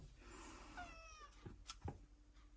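A cat meows softly a few times, drawn-out and close, followed by a couple of light thuds.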